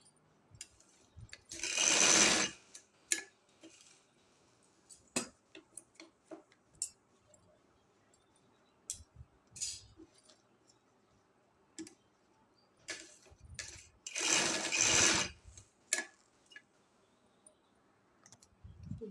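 A sewing machine stitching a double cuff, two loud bursts of rapid mechanical running separated by quiet stretches of scattered clicks and handling taps, close and without speech.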